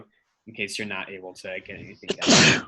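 A single sharp sneeze bursts out at the end, loud and close, right after a person speaking in a classroom setting.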